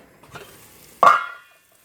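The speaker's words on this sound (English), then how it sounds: "that's starting to sizzle" A short, sharp burst of sizzling as food for a cheese and tomato curry hits a hot frying pan, then fading quickly to quiet.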